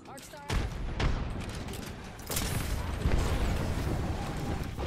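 A frag grenade explosion booms in a video game firefight, followed by dense bursts of gunfire and rumbling blasts, loud and continuous with voices mixed in.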